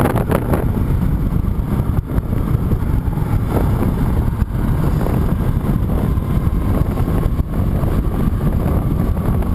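A 2015 Honda CTX700 motorcycle engine under way on a ride, its steady drone buried in loud, constant wind rush, with no voices.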